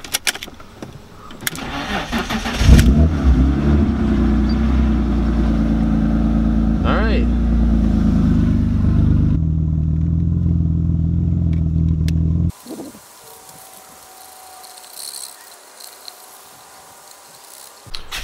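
A Nissan 240SX engine cranks and catches, then idles with a steady low rumble before cutting off, leaving quiet outdoor ambience with insects.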